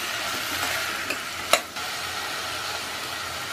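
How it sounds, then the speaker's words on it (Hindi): Chopped vegetables, including green beans and peas, are stirred in a pot for veg tehari. A quiet, sizzling bed of sound is broken by one distinct scrape of the spoon. "1/4 कप मटर, चला लेंगे सब्जी को"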